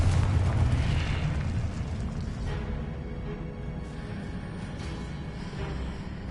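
Confringo blasting spell going off in the video game Hogwarts Legacy: a loud, heavy booming explosion that rumbles on as a sustained roar and fades slowly, with no one talking.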